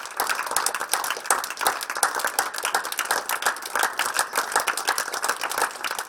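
A seated audience at Panchashil Buddha Vihar claps in a lively, uneven rhythm, many hands close by, sustained for about six seconds with no talk over it.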